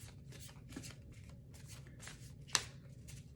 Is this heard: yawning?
no